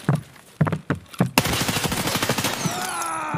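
Gunfire in Escape From Tarkov: a few spaced heavy shots followed by a rapid sustained burst of automatic fire, loud and close, with no talking.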